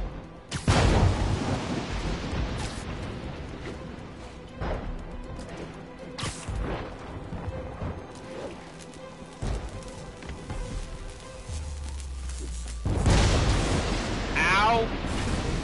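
Thunderstorm with lightning strikes in the Marvel's Spider-Man video game: sharp, loud thunder cracks near the start and again near the end, with rumbling rain and storm noise in between, layered with game sound effects.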